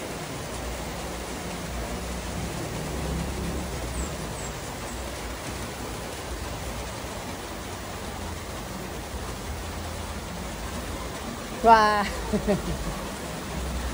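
Steady hiss of rain falls continuously, broad and even, with a short exclamation from a voice near the end.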